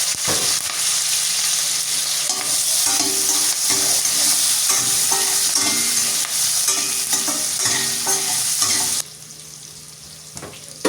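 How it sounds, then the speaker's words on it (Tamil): Eggplant sizzles steadily in hot oil in a pan used earlier for frying meat, with repeated stirring scrapes throughout, loud and close, then the frying drops to a quieter hiss near the end. "இறைச்சி பொரிச்ச தாச்சிலே நாங்கள் ஆயிலில் கொஞ்சம் வச்சு இதில் வந்து நாங்கள் கறி கத்திரிக்காய் சேர்த்துக்கொள்வோம்"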